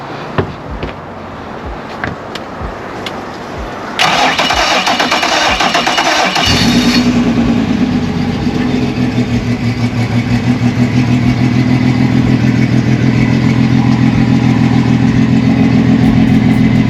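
Yamaha 3.3-liter 250 hp four-stroke outboard engine after an oil change, a sharp start-up burst at about four seconds settling into a loud, steady low idle that runs alone to the end, with small clicks and handling noises before it.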